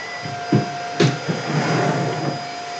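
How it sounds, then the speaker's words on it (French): A household vacuum cleaner runs steadily nearby, a constant whining drone with a high tonal hum, with a few soft bumps near the start and no speech over it. "on entend l'aspirateur"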